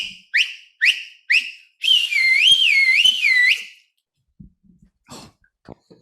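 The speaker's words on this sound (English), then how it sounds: "I've witnessed his loud, shrill of a whistle." A loud, shrill finger whistle sounds alone at close range: four short rising blasts, then a long warbling whistle with wavering pitch, followed by faint breathing and small noises.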